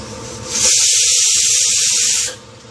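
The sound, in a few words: pressure cooker releasing steam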